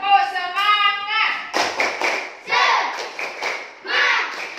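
Children clap together in short rhythmic bursts between chanted and shouted group calls, with an adult voice leading and loud thumping claps in a room.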